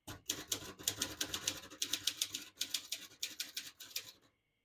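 Someone types on a 1960 Consul 232 ultra-portable manual typewriter. Quick bursts of crisp key strikes clack in rapid rhythm with short pauses between words, close and clear, then the typing stops and goes quiet.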